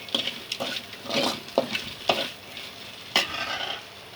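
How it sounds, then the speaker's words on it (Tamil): Spoon stirring curry in a frying pan just after chili powder goes in: repeated scraping strokes in an uneven rhythm over a steady background sizzle, heard close up. "கொஞ்சம் மிளகாத்தூள் போட்டு நல்லா கிண்டணும்"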